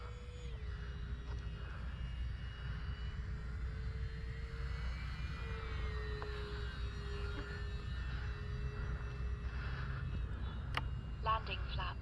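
An E-Flite RV-7 RC sport plane with a tail wheel, running on a 4S 2200 battery, flies by with its electric motor humming faintly and steadily in the distance, its pitch rising and falling as it passes over a quiet outdoor background.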